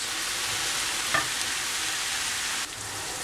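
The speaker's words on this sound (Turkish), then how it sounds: "Üzerine 400-450 gram kadar mantarımızı da ilave edip birazcık kavrulmasını bekliyoruz" Oyster mushrooms, 400 to 450 grams, sautéing in a pan with onion and garlic give a steady close sizzle with occasional stirring scrapes, no talking over it.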